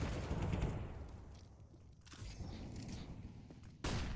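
A Counter-Strike match on the Ancient map at a professional tournament, where faint, distant gunfire cracks sit within a busy game soundscape and a sharp shot lands near the end; no one speaks.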